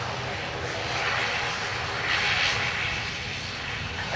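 Jet aircraft taking off from runway 10 right at Dublin Airport, a steady broad engine roar that swells slightly as it powers up, heard from a distance with no talk.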